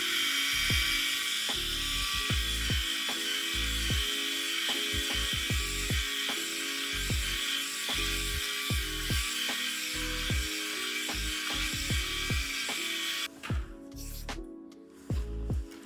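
An electric shaver buzzes steadily up close for most of the stretch, its hum broken by rhythmic low thumps and scraping strokes, then cutting off near the end.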